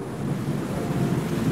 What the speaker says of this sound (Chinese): 不好了，下雨了，大家快回棚里避雨。